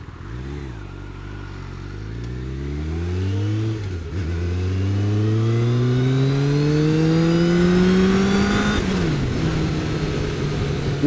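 A car on mismatched tyres pulls back onto a main road, its engine revving loudly and rising in pitch through several gear changes, close and steady with no talk.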